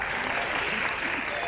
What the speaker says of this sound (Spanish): Aplausos para la gente de Brújula Deportiva.